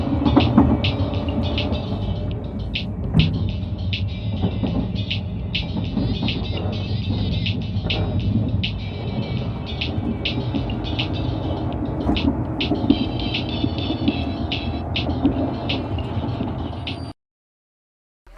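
Train sequence from a Splatoon 3 video game trailer: a continuous heavy rumble of rolling rail wheels with regular rhythmic clacks over the tracks, loud and sustained, then cutting abruptly to silence near the end.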